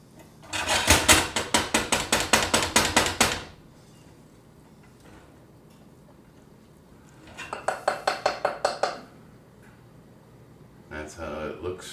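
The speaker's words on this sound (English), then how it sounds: "Give that a good stir" A spoon stirs a jerk chicken mixture in a pot, making rapid rhythmic scraping clatters in three bouts separated by quiet gaps. The first bout is the longest and loudest.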